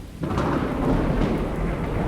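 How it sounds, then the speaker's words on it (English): Rain and a deep rolling thunder rumble from the weather effects in the survival game Miscreated, a sudden loud low roar that swells and holds over a dense hiss of falling rain, with no voices. "just showing you guys the wonderful weather effects. This is when it's raining, thunder."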